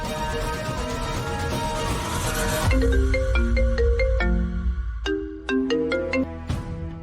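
A phone ringtone plays loudly and close, a repeating melodic tone pattern that continues throughout while a call is being placed, with no talking over it.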